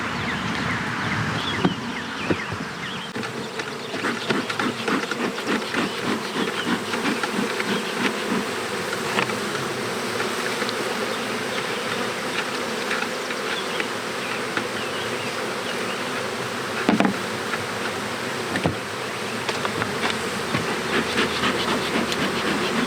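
Honeybees droning around the opened top of a nucleus colony hive, a dense, steady buzz close up with individual bees passing near, no voices.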